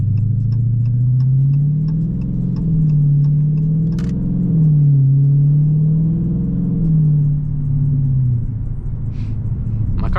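Dodge Challenger 392 V8 rumbles steadily while cruising, its deep exhaust note rising and falling with throttle, loud and close, with a couple of brief crackling pops near the start and end.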